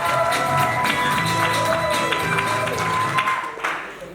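Wedding guests applaud the first witness, the bride's father, in a steady mixed crowd clapping over music and background voices, continuous for a few seconds before tapering.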